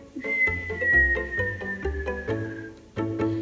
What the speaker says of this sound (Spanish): Que no me sale el silbido.